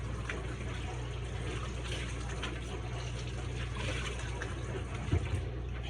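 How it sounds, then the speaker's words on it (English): Tap water runs steadily over hands at a kitchen sink before making pie dough with lard, a soft continuous splashing stream, fairly quiet, with a brief knock near the end and no talk. "I'll wash my hands here."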